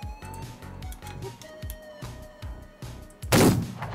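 Lancaster pistol shots in the Roblox Wild West game: a rapid series of sharp, punchy reports at a steady rhythm, ending in one louder, broader blast, with no talk over them.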